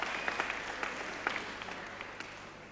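Brief applause at a Superstars weightlifting event, with scattered, crisp claps from a modest crowd that taper slightly over a few seconds.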